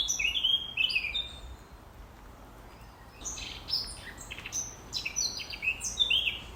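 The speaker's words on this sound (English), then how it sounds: "it's worth stopping for a moment to listen to the bird song" Small birds chirp and trill in quick high bursts from the undergrowth along the Lovers' Walk in Peterculter, over a soft outdoor hush, some calls closer, others further off.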